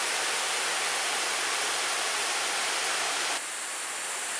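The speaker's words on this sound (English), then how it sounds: "It gives you a good idea how nice this little waterfall is." A small tiered waterfall spills into a stream, giving a loud, steady broadband rush of water that continues unbroken and alone, with a slight change in tone near the end.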